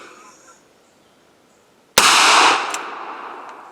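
A single loud gunshot from a .45 revolver fired at an outdoor shooting range, a sharp close crack after quiet, with a ringing decay that tails off over the next second or so.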